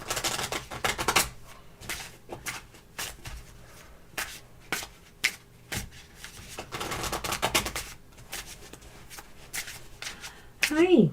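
A tarot card deck is shuffled by hand close up, a run of quick riffling bursts and soft card slaps repeating over about eleven seconds, with a voice speaking between them.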